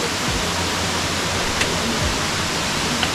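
Water runs through a levada irrigation channel on a Madeira mountain trail, a continuous close hiss of flow with a couple of faint tonal blips and no speech.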